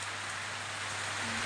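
Heavy rain pours down steadily in a rural farm setting, a dense continuous hiss of drops drumming on surfaces, close and loud with no voices.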